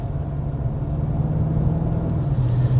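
Steady low road and engine rumble inside a 2025 Mazda CX-30 cornering on the road, a continuous, even drone with no voices.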